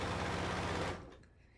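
A sewing machine quilts ghost blocks into a quilt, running in a steady close whir that cuts off partway through and leaves only a faint tail.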